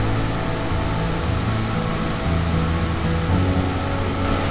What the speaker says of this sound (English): I think I found another waterfall.